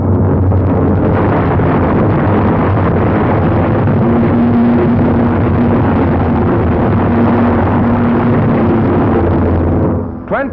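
Japanese warplanes attacking a US naval task force raiding Saipan and Tinian in the Marianas during WWII: a loud, continuous roar of aircraft engines and battle noise with a steady drone, sustained throughout and cutting off near the end.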